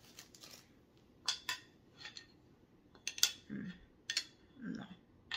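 Small metal scissors tap and click against a magnetized section, producing scattered light, sharp metallic ticks and faint clinks in a quiet room.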